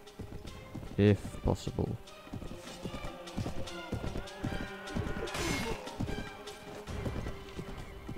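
Horse hooves clip-clop at a gallop in the medieval battle game Mount and Blade Warband, a steady rapid drumming with a loud whinny near the start and crashing clashes, while a player talks over it.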